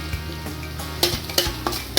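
Ground turmeric, salt and chili powder being stirred in a pan for aloo kofta, with a light frying sizzle and a few sharp spoon-on-pan clinks over a steady low kitchen hum.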